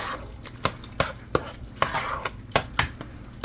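Chili mac being stirred in a pot, with a spoon knocking and scraping against the sides in a series of sharp, separate clacks at close range, no voices.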